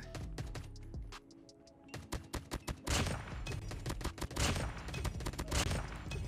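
ASM10 rifle fire in Call of Duty Mobile cracks out in sharp, closely spaced shots, first in separated bursts, then a denser, louder volley with rapid repeated reports and a busy battle background.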